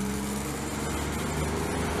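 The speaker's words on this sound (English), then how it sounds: "No, it's something with the motor. I never listen to that. What is that, a compressor?" An old Montreal STM city bus runs with an odd droning motor or compressor noise, a steady rough hum with layered tones and a buzzing edge, continuous and fairly close.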